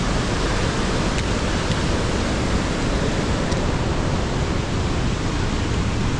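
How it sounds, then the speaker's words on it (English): A river gushing beside a mountain trek trail in Langtang, a steady, loud, broadband rushing of water that fills the whole stretch without a break. "you always have that melodic sound of the river gushing around you."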